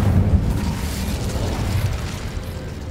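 The Incendio fire spell is cast in the video game Hogwarts Legacy, a dense roaring whoosh of flame with heavy low rumble that sustains for a few seconds without pause, with no talking.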